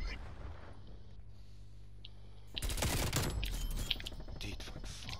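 Gunfire in Call of Duty: Black Ops Cold War multiplayer, including light machine guns: after a quiet opening, sudden loud bursts of rapid shots break out and continue in clustered volleys to the end.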